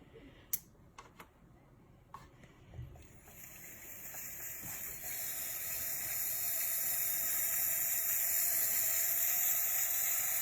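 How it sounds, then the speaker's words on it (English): A few sharp clicks, then a steady rushing hiss builds and holds as a Gurin steam inhaler runs, loud and continuous. "I can just turn it on and the steam will come out."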